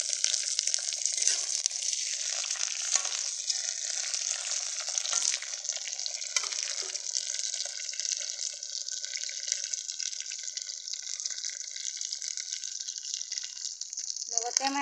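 Meat drops into hot oil with onions in a kadai, setting off a bright, continuous hiss of frying that holds steady and loud throughout, with faint clatter underneath.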